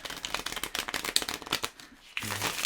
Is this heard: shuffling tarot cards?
yes